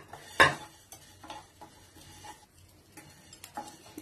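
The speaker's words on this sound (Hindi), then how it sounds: "धनिया सौंफ और काली मिर्च को हल्का गरम कर लेंगे" Coriander seeds, fennel and black pepper are dry roasted in a pan, heard as soft scattered taps and scrapes of spices being stirred, with one sharper knock near the start and no talking.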